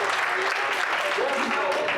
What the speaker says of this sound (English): If you believe it, clap your hands into Jesus Christ.